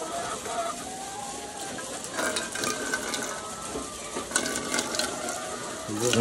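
Biospark V supplement is stirred into water in a bucket, making a continuous watery swishing with light sloshes and clinks, close and fairly loud.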